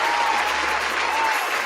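A round of applause, dense steady clapping that fills the moment at an even level and then drops off abruptly near the end.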